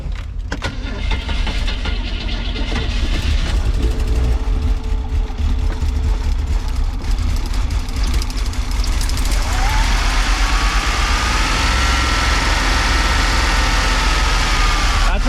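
An old engine that has sat unused for years cold-starts, cranking and catching, roughly running with a steady rattling rumble that grows louder, without any voices.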